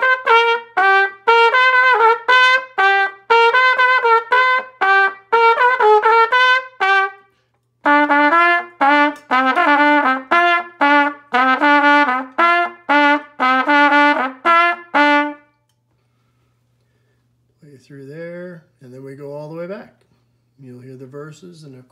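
Band arrangement of a song with percussion and woodwinds playing a bouncy, staccato melody over a steady pulse for about fifteen seconds, then breaking off before a softer, sliding instrumental phrase returns near the end.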